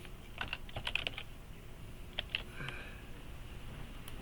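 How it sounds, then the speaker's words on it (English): Quiet typing on a computer keyboard in short irregular bursts of key clicks, some isolated taps and pauses between them, with no talking. "if we type in face"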